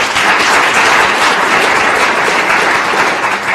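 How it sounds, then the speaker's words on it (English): Sustained applause from a live audience at a tribal casino's 2 percent distribution event, a steady loud wash of many hands clapping for the whole span with no talk over it. "Big round of applause to our IT team."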